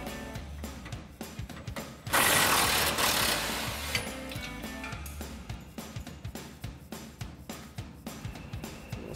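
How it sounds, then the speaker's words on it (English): An impact or ratchet wrench rattles in rapid ticking bursts while a shock top bolt is loosened on an F-150, with a louder sustained hiss-like burst of whirring in the middle, close by. "We'll go ahead and remove our top bolt."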